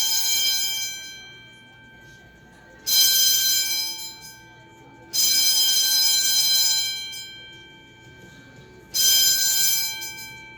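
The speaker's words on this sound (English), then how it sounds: "I think that false fire alarm is ringing to my ears" A false fire alarm rings at the Fantastic Flea Market in Mississauga: four loud, shrill, tonal bursts about two seconds each, separated by quieter gaps with an indoor hum.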